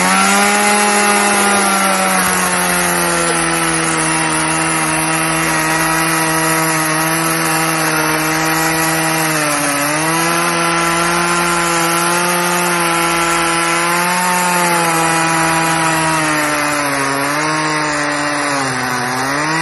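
A chainsaw cutting through wood, a loud, close, continuous buzzing whine that holds steady with slight dips in pitch as the chain bites, with no talking.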